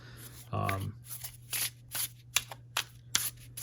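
Tarot cards are riffled and shuffled in a series of short, crisp bursts after a brief low hum, close and clear, with no talking.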